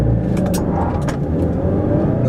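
A 2014 Mazda3 with 155 horsepower accelerating hard from 0 to 60 mph, heard from inside as a loud, steady engine roar with road rumble and a few brief rattles, no talking.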